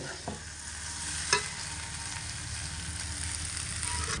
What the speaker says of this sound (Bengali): ঘি দিয়ে হালকা নাড়াচাড়া করে রেসিপিটা আমি উনান থেকে নামিয়ে নিচ্ছি